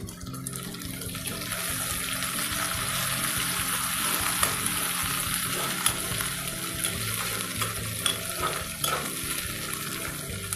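Curry leaves go into lightly fried onions in a pan, producing a steady, crackling sizzle with sharper pops scattered throughout, heard close up and alone for about ten seconds.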